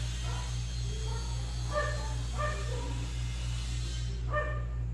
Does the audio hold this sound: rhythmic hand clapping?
no